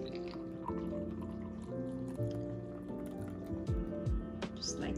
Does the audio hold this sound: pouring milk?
yes